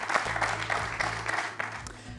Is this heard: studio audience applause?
yes